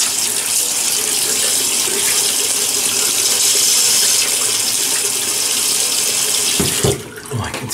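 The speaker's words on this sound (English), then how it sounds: "So let me just wet the face here." Tap water pours steadily into a sink to wet a face before shaving, a loud continuous splashing rush that cuts off near the end.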